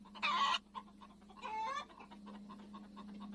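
A chicken clucks in two short, bright bursts separated by a pause, with softer clucks in between over a steady low hum, heard during a children's song about a drive to the country.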